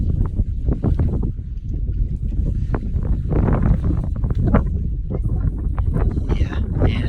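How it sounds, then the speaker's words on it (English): Cold wind gusts across a grassy outdoor spot at a scenic overlook, buffeting the microphone in a continuous low roar with fluttering bursts throughout. "it's windy and it's cold"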